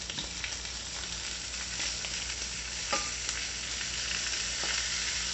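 Pork roll fries in a pan with a soft, steady sizzle and crackle, plus a few small scrapes and taps as it is stirred and turned.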